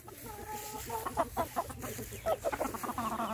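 A Pure Kelso gamefowl rooster gives a series of short, rhythmic clucks close by over a low background hum.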